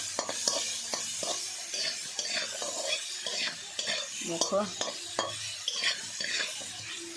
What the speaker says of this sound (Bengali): জিরে শুকনো লঙ্কা ফোড়ন দিয়ে সবজিগুলো একটু নেড়ে চেড়ে নিচ্ছি।